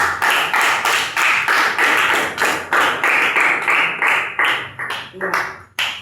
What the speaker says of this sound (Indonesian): kita beri aplaus buat kelompok 1